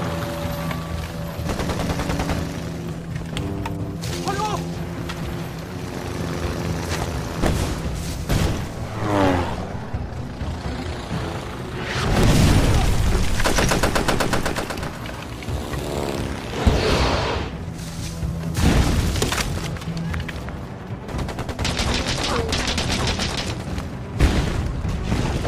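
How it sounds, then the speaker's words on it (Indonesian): Heavy film-scene bombardment of a forest by Japanese cannons and bomber aircraft: booming blasts and rapid bursts of gunfire, with the drone of aircraft engines swelling overhead; loud and chaotic throughout. "Jepang langsung membombardir hutan itu dengan menggunakan meriam dan pesawat pengebom"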